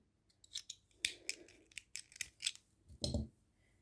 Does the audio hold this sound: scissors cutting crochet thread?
yes